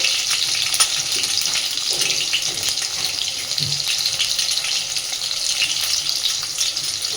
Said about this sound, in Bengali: দিয়ে বেশ লালচে করে আলুগুলোকে ভেজে নেব